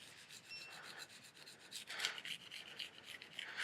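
A kitchen knife scrapes in rhythmic strokes across a coarse 220 grit whetstone, a faint gritty rasp repeating back and forth close by.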